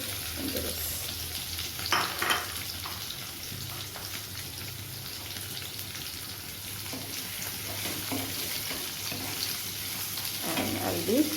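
Two medium onions frying in a pressure cooker for khichri, a steady close sizzle and crackle with occasional stirring scrapes, heard alone without talk.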